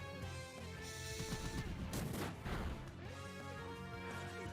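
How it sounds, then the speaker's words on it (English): A Pokémon Y battle attack animation, an explosion-like move: a loud, dense blast with booming crashes and bursts layered over continuous game music, with no talking. "It's like an explosion or something. Mini nuke."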